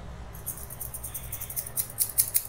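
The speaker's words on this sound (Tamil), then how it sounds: "சத்தம் வந்தாதான் நல்ல சிசர் அர்த்தம்." Old scissors snip in quick, light, rhythmic cuts that grow slightly louder and denser over a couple of seconds, heard close and alone.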